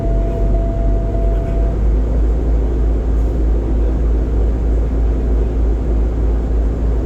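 A truck engine runs under throttle to build up air brake pressure, a loud, steady low rumble that holds unbroken throughout, close and without talk.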